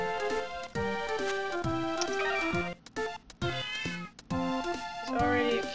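Repeated kitten meows in the Catz pet game for the Nintendo DS, played on an emulator. The cries are clear, close and insistent and are set against light game music.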